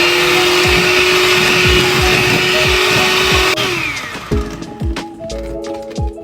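Electric hand mixer whipping cream for tiramisu in a bowl: a loud, steady whirring motor that runs continuously, then shifts and drops in pitch partway through, with rattling beaters knocking against the bowl.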